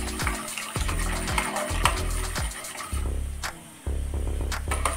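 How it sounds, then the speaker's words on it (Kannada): Water is poured into a milk powder mixture in a bowl for homemade paneer, a continuous close pouring and splashing stream with brief interruptions and a faint hum. "ಪುನೊಮ್ಮೆ ನೀರು ಹಾಕ್ಕೊಳ್ತಾ ಇದ್ದೇನೆ."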